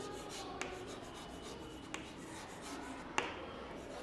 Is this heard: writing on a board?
yes